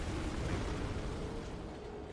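A deep, roaring explosion during a boss fight in the Elden Ring DLC, heard as a dense, sustained low rumble with broad crackling noise that stays fairly even and slowly tapers, with no speech.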